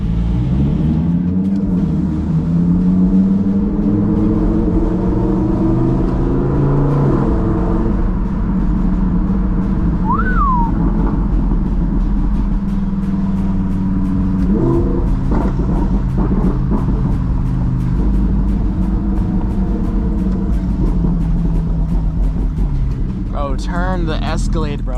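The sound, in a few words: Audi R8 accelerating with loud exhaust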